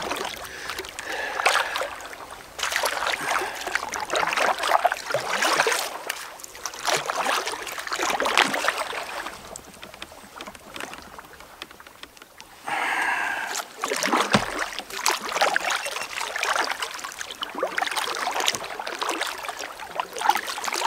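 A canoe is paddled through water on a hard trip, with repeated splashes and dribbling strokes close by, broken by a short lull partway through.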